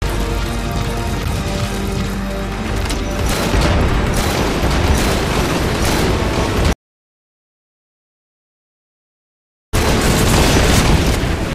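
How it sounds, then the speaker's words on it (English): Machine-gun fire from the Sahelanthropus boss fight in Metal Gear Solid V is deflected by a pylon: dense, loud, continuous rapid bursts and booming impacts with mechanical clatter. The sound cuts to silence for about three seconds, then resumes just as heavily. "The machine gun attack was deflected by the pylon."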